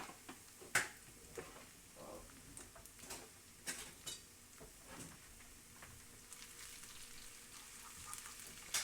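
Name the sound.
onions and anchovy paste frying in oil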